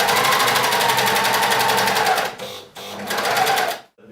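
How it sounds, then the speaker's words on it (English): Sewing machine runs steadily and loudly up close, stitching a trouser front pocket bag closed along a curved line, then slows and stops twice before a final brief stop. "to be sewing the pocket bag close"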